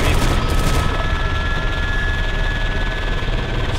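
Arma 3 combat rumbles with dense, continuous gunfire and bursts of automatic fire under a loud, droning helicopter engine, with no pauses throughout.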